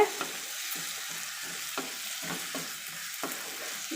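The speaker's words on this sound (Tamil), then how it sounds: "இது ஒரு 5 நிமிஷம் நம்ம வதக்கலாம்" Potatoes sauté in hot oil with a soft, steady sizzle while a spoon stirs and turns them in occasional scraping strokes, quiet and close.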